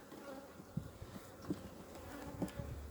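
Faint buzzing of honeybees at a hive in spring, with a few louder passes nearby, a low steady insect drone against quiet background hum, no voices.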